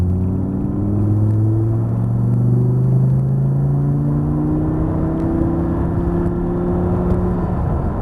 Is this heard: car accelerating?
yes